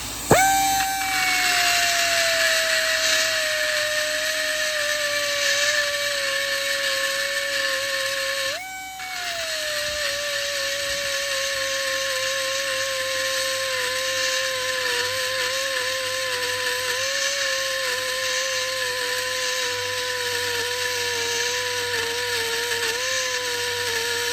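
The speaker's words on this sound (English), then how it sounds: "We'll die grinder this, but like I said, the important thing is I don't want to touch my aluminum" A die grinder whines continuously on an aluminum billet engine block, its high pitch sagging slowly under load with a brief dip near the middle, loud and close throughout with no talk.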